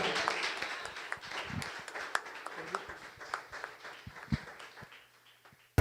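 A church congregation applauds in a busy, crackling burst of many hands that gradually tapers off, with a voice faintly present beneath it.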